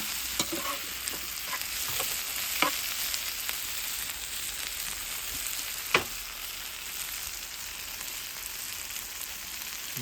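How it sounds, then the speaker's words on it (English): Chicken and rice paella sizzles steadily in a hot pan, a constant crackling hiss with occasional sharp pops and scraping stirs, close up and without talking. "There you go, sizzling away nice."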